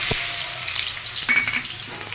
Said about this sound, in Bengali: ফোড়নটা হয়ে গেছে, এবার আমি পেঁয়াজগুলো দেবো